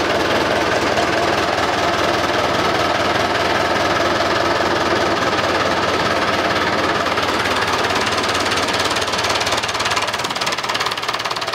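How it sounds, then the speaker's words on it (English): A David Brown tractor engine runs steadily and loudly close by, with a continuous rough, knocking diesel chug throughout. "Right away, this tractor starts."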